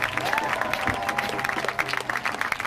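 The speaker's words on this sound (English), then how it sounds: "Give yourself a round of applause for that" Crowd at an anti-war rally in Seattle applauding, brisk clapping with some cheering and a few raised voices in the mix, moderately loud and close.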